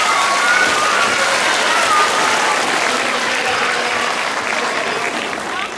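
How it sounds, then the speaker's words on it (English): A school assembly crowd of children and adults gives Gage a big round of applause, dense and loud, tapering slightly toward the end. "everybody to give Gage one more big round of applause."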